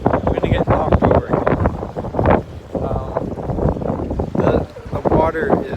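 Strong gusts buffet the microphone beside a seawall in Dublin, a loud, continuous roar with rushing swells as wind batters the open waterfront, water washing over the wall nearby.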